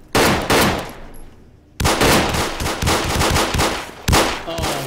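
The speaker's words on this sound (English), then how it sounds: "we're gonna open fire on this man" Automatic gunfire in the Arma 3 video game, loud and close, with rapid bursts that repeatedly start, pause briefly and restart across the whole stretch.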